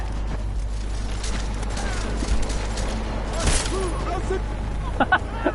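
Battle rifle gunfire in the video game Deus Ex: Mankind Divided, a dense sustained fusillade with a heavy low rumble and sharp bursts near the middle and end, under a continuous battle din.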